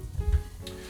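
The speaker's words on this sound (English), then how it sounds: "So now we're going to be frying up the shiitake and the oysters." Shiitake and oyster mushrooms fry in a pan with a soft, steady sizzle, fairly faint and brief, and nobody speaks.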